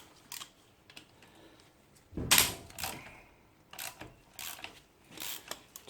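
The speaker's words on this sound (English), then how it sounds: "So we've got some more bolts to undo." Wrench or ratchet working on cylinder head cap bolts of a Honda V-twin engine, giving quiet close mechanical clicks and ratcheting bursts, with one louder metallic rasp and several faint turns alone.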